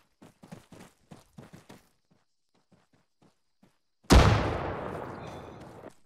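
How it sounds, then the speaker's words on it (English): A grenade explodes in the video game Arma 3 after a string of footsteps, one loud close blast that rolls off into a long fading rumble. "Grenade out."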